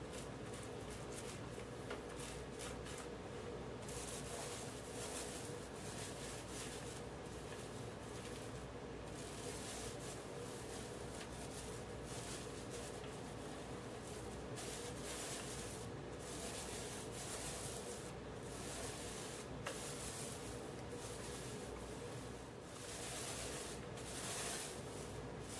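A Wiz roller spreads primer across a wall with a soft, continuous rubbing swish in repeated strokes, fairly quiet and with no talking over it.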